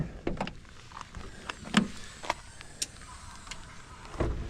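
Rear hatch of a 2002 Volkswagen Eurovan being opened, with a series of light clicks, latch knocks and creaks spread over a few seconds, close by and fairly quiet.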